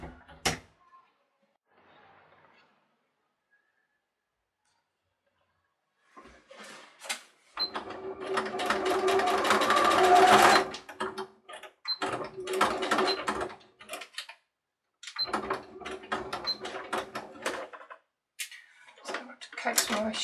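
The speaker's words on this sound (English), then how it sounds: "I will have to go slower here and make sure I've got a long stitch length for my machine to cope with that bulk." A sewing machine stitches slowly with a long stitch length through bulky tea-towel side seams on a tote bag, running in several bursts of steady mechanical whirring and clatter with short pauses between them.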